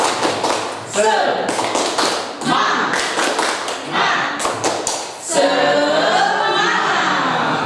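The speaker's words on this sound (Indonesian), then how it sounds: "Tepuk 1, tepuk 2, tepuk 3, tepuk semangat." A group in an Indonesian classroom performs a rhythmic tepuk semangat clapping cheer, bursts of claps in counted patterns alternating with chanted voices, close and loud.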